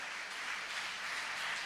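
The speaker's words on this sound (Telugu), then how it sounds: "చప్పట్లు కొట్టి దేవుని నామాన్ని మహింపరుద్దాం." A church congregation claps together during a prayer service, a brief, even burst of many hands at moderate distance, with no voices over it.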